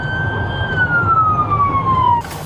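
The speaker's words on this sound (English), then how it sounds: "Trooper pass an ambulance stuck in traffic en route to the scene" An ambulance siren stuck in roadway traffic rises to a single long wail that slowly descends in pitch, sounding loud and close over the rumble of engines before cutting off abruptly near the end.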